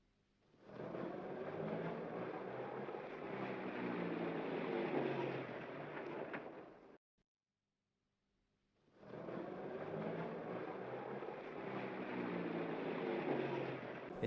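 A van drives along a road with a steady, muffled engine drone that cuts out for about two seconds and then resumes at the same even level.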